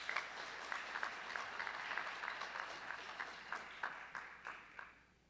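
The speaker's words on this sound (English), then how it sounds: "Please give her a round of applause." An audience at the Wallace Fry 2019 event claps for a judge being introduced, a moderately distant round of applause that holds steady and then thins into scattered individual claps before fading out.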